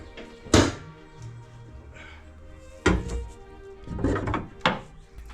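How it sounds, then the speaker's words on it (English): Mazda CX-5 hood release lever pulled, giving a sharp thunk that is followed by a few more dull knocks and clunks at close range. "Pop the hood."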